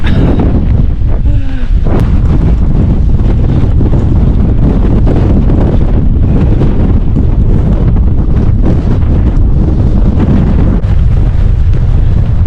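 Strong wind roars across a Lake District hilltop on a coast-to-coast walk, a loud continuous buffeting rush that batters the microphone throughout.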